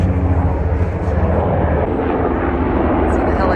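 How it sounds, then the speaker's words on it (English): Helicopters passing overhead outdoors, a steady broad engine and rotor roar holding loud and constant throughout, with no voices over it. "see the helicopters going over."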